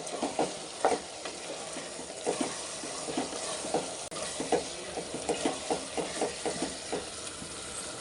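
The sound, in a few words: stirring ginger garlic paste into chicken curry in pan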